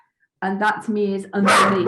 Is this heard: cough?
no